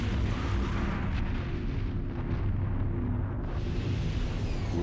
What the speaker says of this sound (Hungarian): Hangos csikorgást, majd robbanást hallottunk.